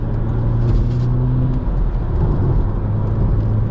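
An Audi S3 8P engine hums and whirs steadily from inside the car while overtaking, a low droning rumble that rises slightly as it speeds up.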